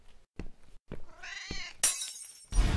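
A cat meows in the horror video game Downfall, with several short close mews followed by a harsh, noisy crash and burst of sound near the end, without speech.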